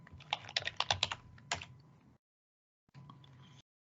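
Close, crisp typing on a computer keyboard, a quick run of clicking keystrokes, then a brief silence and a short second burst of keys.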